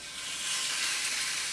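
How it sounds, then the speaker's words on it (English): Tuna steaks sizzle steadily in an oiled pan, a loud broadband frying hiss that swells slightly and holds continuous, close and alone. "Perfect sizzle."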